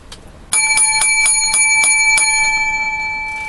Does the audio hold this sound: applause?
no